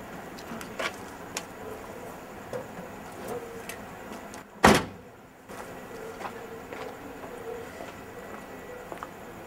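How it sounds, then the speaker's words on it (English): A door opens once midway through, a single brief clunk and rattle standing out from a quiet indoor room hum. "Let me get the door."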